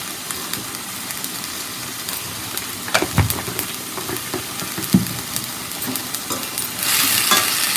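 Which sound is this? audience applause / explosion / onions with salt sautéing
onions with salt sautéing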